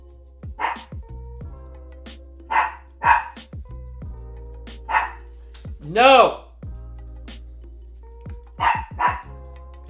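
Dogs bark in repeated sharp bursts, including a longer yelping howl near the middle, loud and close, with a person talking and exclaiming between the barks.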